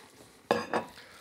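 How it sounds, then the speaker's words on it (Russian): Two quick clinks of a plate being lifted and set against a surface, close and distinct in an otherwise quiet kitchen. "Я сейчас возьму тарелку"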